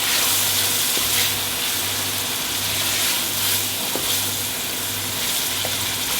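Three medium tomatoes frying in a pan as they soften, giving a steady, dense sizzle with faint crackles and occasional stirring scrapes, continuous and fairly close throughout.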